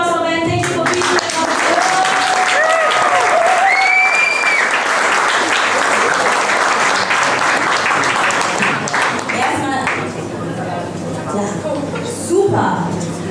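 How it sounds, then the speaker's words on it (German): A crowd claps and cheers loudly at a Ben & Jerry's scoop shop opening in Berlin, dense applause tapering off after about ten seconds, with voices and a brief shout over it. "So first of all, big applause for Ben."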